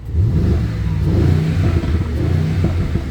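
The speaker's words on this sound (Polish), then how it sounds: "bo to jest fabryczny wydech, tak dobrze brzmią" A 2022 Mercedes GLE 63 S 4Matic with 612 hp revs through its factory exhaust, a loud, close, deep engine roar with rising and falling pitch, burbling steadily throughout with no talking.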